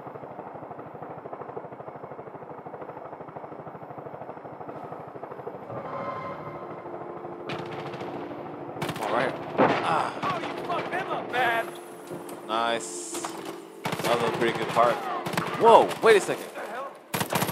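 Gunfire in the video game Far Cry 5 comes as sharp cracks and bursts of automatic fire that grow denser and louder over a droning helicopter, while someone speaks briefly.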